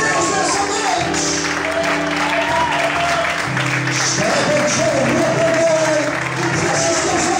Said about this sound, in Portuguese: Quantos podem aplaudir e exaltar a Deus nessa noite?